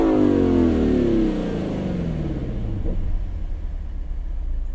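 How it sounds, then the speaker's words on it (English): A 2018 Lexus LC 500 engine revs freely, its pitch sweeping down as the revs fall after a burst, then settling into a steady close, low idle rumble. "Got kind of a cool rev limiter to it too. It's a nice free revving engine."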